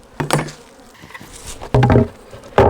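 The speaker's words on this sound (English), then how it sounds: "got bees flying around my trailer" Honeybees buzz close by in short, uneven passes around a trailer, the droning rising and fading as they fly around with light tapping sounds mixed in.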